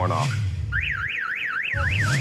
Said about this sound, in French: Quand on a récupéré la caisse de Christine, l'alarme arrêtait pas de se déclencher.